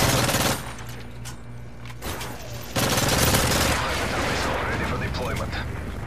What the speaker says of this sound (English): Sentry gun behind the flag.